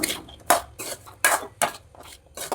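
Bitter gourd stir fry with salt stirred in a pan, a series of about six distinct metallic scrapes and clanks from the utensil against the pan, close and fairly loud, with no speech.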